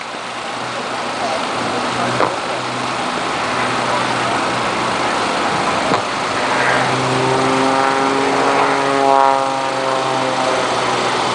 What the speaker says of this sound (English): they're actually going to stall the aircraft and drop backwards through their own smoke